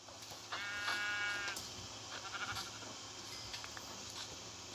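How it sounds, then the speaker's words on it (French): A sheep bleats in Minecraft, one clear wavering cry, then fainter bleats against a quiet game background. "Mouton. Mouton. Mon mouton."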